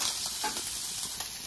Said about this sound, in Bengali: হচ্ছে মাছ ভাজা।